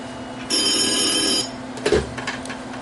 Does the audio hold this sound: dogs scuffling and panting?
no